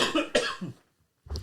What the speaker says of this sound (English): I'm just going to do a cough.